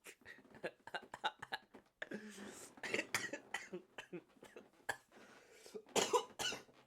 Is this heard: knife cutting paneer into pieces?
no